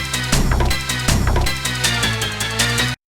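The intro of the Eurobeat song plays loud and full, with a driving beat, synth lines and bright upper layers running steadily for about three seconds before cutting off abruptly.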